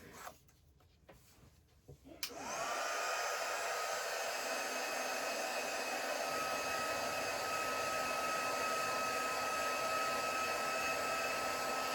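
Hair dryer switched on after a few soft handling clicks, then blowing in a loud, steady whine and rush nearby to dry acrylic folk art paint, continuing unbroken with no voices.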